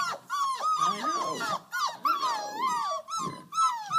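Small border collie puppies growl and whimper up close, high squeaky yelps and low rumbles overlapping in a busy, continuous tumble of sound.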